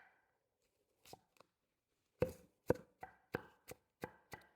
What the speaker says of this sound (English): you can use a pull chopper and chop them really small